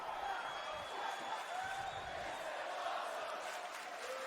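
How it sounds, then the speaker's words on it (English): A WWE 2K19 video game arena crowd chants in a steady dense roar, distant and continuous with no clear breaks. "Awesome chant from the crowd now."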